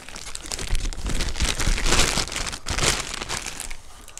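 A plastic shipping bag from an online-order unboxing is crinkled and crushed by hand, a continuous close, loud rustling and crackling with brief pauses.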